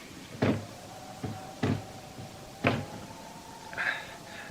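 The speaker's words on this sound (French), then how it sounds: "Regarde si la porte est ouverte." Someone tries a locked door, rattling the handle: a few separate dull knocks and clunks, spaced roughly a second apart, close by over a faint steady hum.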